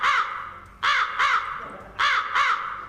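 A crow caws four times in two quick pairs, harsh and raspy, loud and close, with no voices over the calls.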